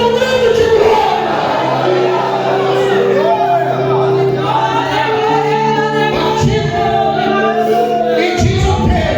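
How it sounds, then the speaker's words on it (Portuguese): A church congregation at an evangelical sermon raises a loud, sustained shout of glory, many voices blending into a continuous crowd roar with a few higher cries standing out throughout. "Quem está entendendo, levante as duas mãos e dê um grito de glória."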